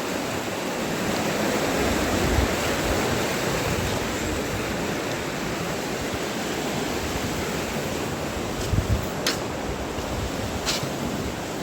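Fast-flowing water of the Saraswati river at the Prachi ghat rushes steadily and loudly throughout, a dense broadband roar with no pauses and a couple of faint clicks near the end.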